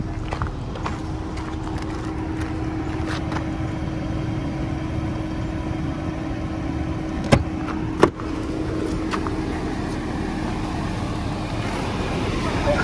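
A vehicle waits with its engine running on a street in Phnom Penh, Cambodia, giving a steady, close mechanical drone with a faint hum and two sharp knocks partway through. No clear pull-away is heard.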